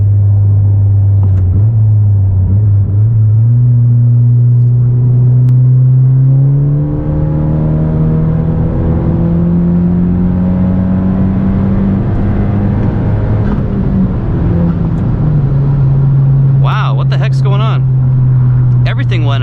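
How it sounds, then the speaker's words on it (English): Car engine revving hard through a fourth gear pull, a loud, steady rising drone that climbs in pitch for about fifteen seconds, then drops off sharply as the throttle lifts near the end. "I'm gonna do a 4th gear pull here."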